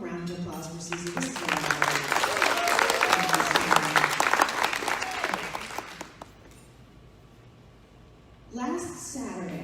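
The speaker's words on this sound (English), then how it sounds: "Can we have a round of applause for Susie?" An audience applauds for Susie at a storytelling event, a dense burst of clapping that swells and holds for several seconds, then fades into quiet before a voice starts speaking near the end.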